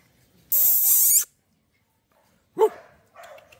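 A small puppy lets out a sharp, high yelping bark, then after a pause a couple of shorter barks and whines, close by with no talk.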